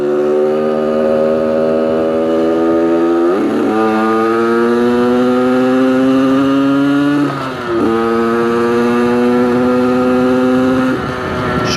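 Motorcycle engine fitted with a 21 mm PWK-type carburettor, running loud and close with a steady drone, climbing in pitch through two rising revs, each dropping back sharply before building again.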